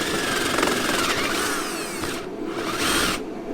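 A power drill whirs as it drives a countersink bit into wood, a loud close grinding run broken by two short pauses before spinning up again.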